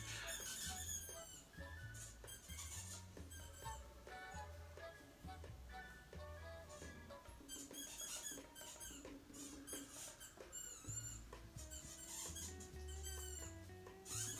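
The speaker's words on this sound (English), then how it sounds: "My dog and her squeaky toy." A dog plays with her squeaky toy indoors, setting off repeated high, shrill squeaks in uneven bursts that carry on almost without pause. The squeaks sound close but fairly quiet.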